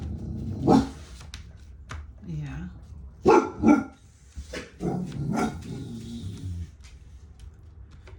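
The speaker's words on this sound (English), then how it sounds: "It's barking at somebody walking down the street." A pet dog barks at a passer-by on the street, a few sharp barks scattered through the clip alongside indoor talk and a brief spoken reply.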